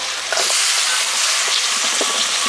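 Ginger-garlic paste and chopped tomato sauté in a hot pan for a fish curry, giving a loud, continuous close-up sizzle with a hissing, steamy texture and occasional stirring scrapes.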